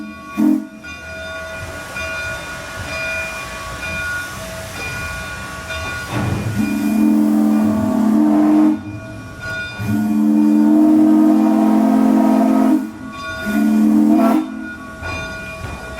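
Steam locomotive 401 on the Indiana Northeastern Railroad moving forward, with loud, steady chuffing and hissing steam, sharp blasts at intervals, and rolling railcar rumble that swells and fades across the run.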